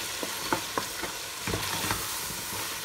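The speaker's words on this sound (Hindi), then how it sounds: "डाल के इसको अच्छे से मिक्स करके" Masoor dal is stirred into fried masala in a pan, with a continuous low sizzle under repeated spoon scrapes and light metallic clinks at an uneven pace.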